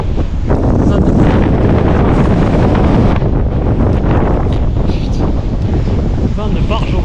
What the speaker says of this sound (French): Il y a trop de vent quoi.